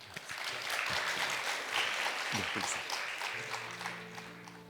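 Moderate applause from a congregation at a Friday prayer meeting in a church, steady clapping with a voice heard briefly over it and some musical tones entering toward the end.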